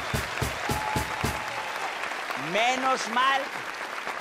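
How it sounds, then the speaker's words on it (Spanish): Brief applause for the late painter Botero on a Colombian TV comedy show about New Year's Eve effigies, a few claps heard, then a voice speaks and a sung or drawn-out vocal follows. "Un aplauso bien gordo para Botero."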